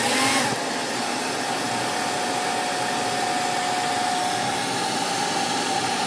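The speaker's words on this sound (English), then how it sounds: "I'm going to hit this with the hair dryer a little bit" A hair dryer whirs steadily at a low setting on vinyl, a continuous airy hiss with a faint motor whine, starting after a brief moment.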